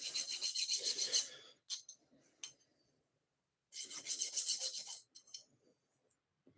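Hand filing on a part of a 1964 Schwinn Varsity bicycle, two bursts of steady rasping strokes close up, with a few short scrapes and a quiet gap between them.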